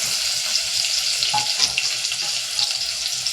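Onion sautéing in a pan for upma, a steady soft frying sizzle with light stirring scrapes, close and continuous without any speech.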